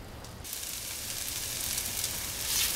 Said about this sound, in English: I'm going to put in one large diced onion and just get that nice and sauteed up.